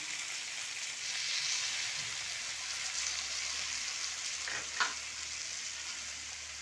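Chilli chicken Manchurian fries in a pan with tomato sauce and soy sauce, giving a steady close sizzle with light stirring scrapes and a brief louder hiss near the end.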